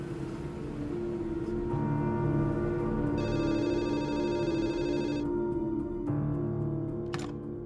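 A telephone rings on a call back in a dubbed Persian drama, its repeated ringing tone running steadily over a low background hum and music, with no talk.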